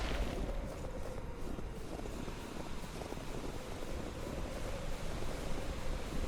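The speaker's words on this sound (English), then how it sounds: "What a nice waterfall." A waterfall in a video game gives off a steady, broad rushing roar that runs unchanged through the whole stretch, with no speech over it.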